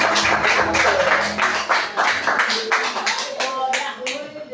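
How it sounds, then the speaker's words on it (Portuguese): Rhythmic clapping from a congregation during a worship service at an Assembleia de Deus church, steady hand claps repeating loudly throughout, with singing or voices mixed in beneath. "palmas para Jesus."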